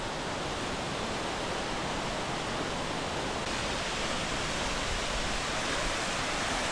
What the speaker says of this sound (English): there's a waterfall over there